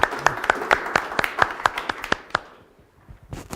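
A small audience claps at the end of a morning talk session, a sparse round of distinct hand claps that thins out and fades, then a few final claps.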